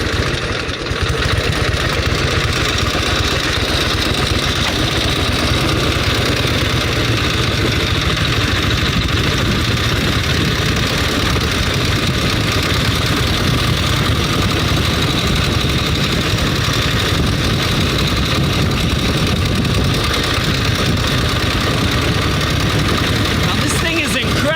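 A 1916 Harley-Davidson motorcycle with a sidecar idles steadily, a loud continuous low rumble with a fast, even mechanical beat that stays close throughout.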